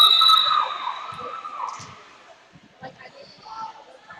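Loud crowd of fans cheering at a girls' high school volleyball match, both sides roaring with shrill sustained yells that swell at first and then ease into scattered bursts.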